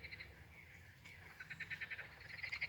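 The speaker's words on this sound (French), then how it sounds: "Il me semble que les grenouilles semblent se conjuguer avec ma lecture" Frogs croak in a faint, steady chorus of rhythmic pulses that grows more insistent toward the end, with no voices over it.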